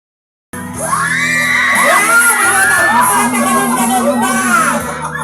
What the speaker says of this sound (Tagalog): Pasalubungan po natin ang isang kasigamang palakpakan na kasama ang hiyawan.